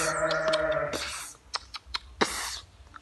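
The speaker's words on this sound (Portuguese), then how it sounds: "Tem umas cabrinhas ali." Goats on a small rural farm call out in a near, nasal bleat lasting about a second, followed by scattered rustles, short thumps and another burst of noise.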